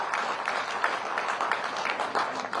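A crowd claps at a Chief Minister's inauguration of health projects, a continuous rattle of many hands lasting a few seconds, fairly close and steady with slight swells, no speech over it.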